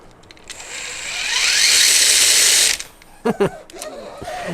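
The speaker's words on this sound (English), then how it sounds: "Yeah, 1800 kV motor running on 3S LiPo" Whirring gear whine from an RC crawler truck with an 1800 kV motor on a 3S LiPo, rising to a loud sustained run for about two seconds, then cutting off and followed by a few short ratcheting bursts.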